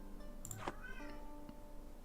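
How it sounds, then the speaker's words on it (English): A house cat meows through a hole cut in a closed door: one drawn-out meow, faint and distant in a quiet room, with no one talking. "Stood outside my room, meowing through the hole in the door that I've cut."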